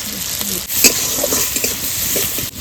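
Spices and garlic temper in hot oil in a pan, sizzling steadily with brief scraping stirs and a few sharp crackles, close and loud.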